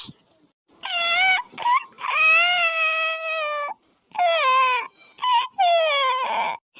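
Loud, close crying wails in drawn-out bursts with short breaths between them, high and tearful, alone without other sound.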